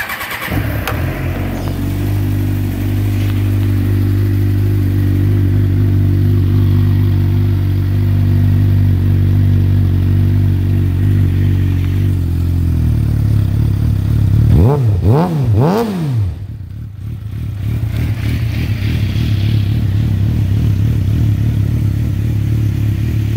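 A 2007 Suzuki GSXR600 sport bike with 6,699 miles idles steadily and loudly nearby, then gives a couple of quick throttle blips before settling back to a steady idle; no talking.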